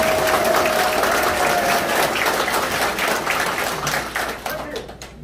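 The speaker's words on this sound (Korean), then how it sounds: "박수 한번 보내주십시오." Loud, dense crowd applause at the opening of a Democratic Party county-governor campaign office in Goheung, South Korea, holding steady and then tapering off into scattered claps.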